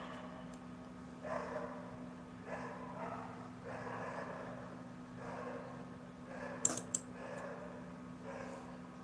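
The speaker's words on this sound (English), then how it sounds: "Again, the dog's barking." A dog barks repeatedly at a distance, muffled bursts spaced a second or so apart over a low steady hum, with a brief sharp clatter midway.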